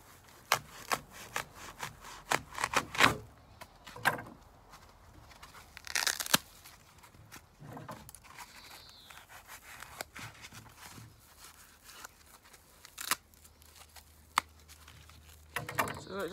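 Sharp snips and tearing crackles as a small piece is cut out of a block for koi spawning ropes, irregular close bursts with quieter rustling between them and a pause before a final flurry.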